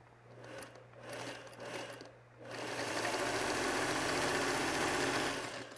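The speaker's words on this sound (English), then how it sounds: "Let's go to the sewing machine and start snowballing the upper left of each one of these, chain stitching them" A sewing machine chain stitches 5-inch fabric squares, snowballing their corners. After a couple of seconds of quiet handling it runs steadily and fairly loud, with a continuous fast whirring hum.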